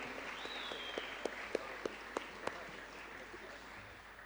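An audience at a Tamil film teaser launch event claps, sparse and fairly faint, with a handful of distinct claps standing out over a low crowd murmur before fading away.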